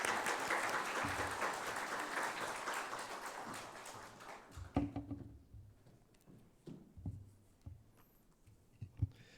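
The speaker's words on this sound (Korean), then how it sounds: "우리 최선한 목사님 나오실 때에 우리 큰 박수로 환영하도록 하겠습니다" Church congregation applauding at a Sunday service to welcome the pastor to the pulpit, a dense sustained wash of clapping that thins out after a few seconds into scattered claps and room noises.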